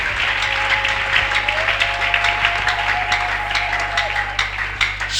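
A church congregation claps and applauds for Jesus, steady dense clapping throughout with a faint sustained tone running underneath.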